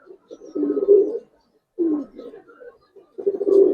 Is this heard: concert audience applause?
no